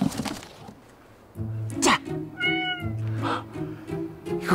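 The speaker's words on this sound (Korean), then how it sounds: "이거 고양이 아닙니까?" A cat meows several times close by, plaintive cries rising over a soft, steady low background hum.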